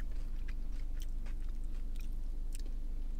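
Close, crunchy chewing of crispy chicken wings, with bites and crackles over a steady low hum.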